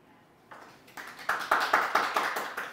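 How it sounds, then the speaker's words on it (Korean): A lecture audience claps after a talk on ancient Korean history, applause swelling from scattered claps into steady, rhythmic rounds that grow louder and more unified. "큰 박수 부탁드립니다"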